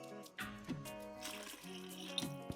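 Club soda pours into a mixing container with fizzing and trickling, faint and close, alongside other clinks as a party punch of light beer and pink lemonade concentrate is made.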